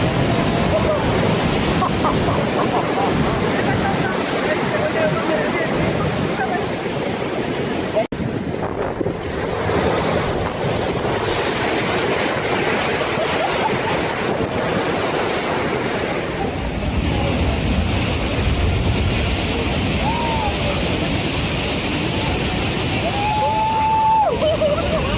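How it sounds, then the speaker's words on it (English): Large winter ocean waves crashing in San Sebastian Bay, a loud continuous roar of surf heavily buffeted by wind noise throughout, with no clear individual breaks standing out. "During the winter months, San Sebastian Bay sees waves rise as high as 30 meters, a dramatic sight"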